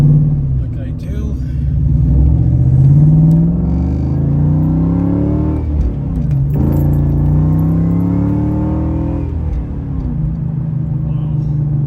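A 1992 Ford Mustang LX notchback with a swapped motor drives along, a steady low engine drone with shifts in pitch as it pulls, close and loud throughout with no talk over it.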